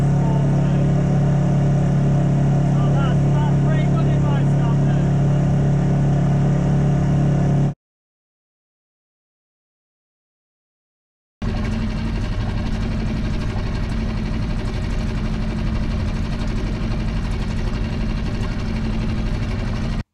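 A sailboat's motor runs under added throttle while the yellow boat planes along at about four knots, a loud, steady engine drone that drops out completely for a few seconds before returning just as strongly.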